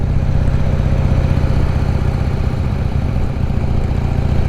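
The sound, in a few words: motorcycle engine while riding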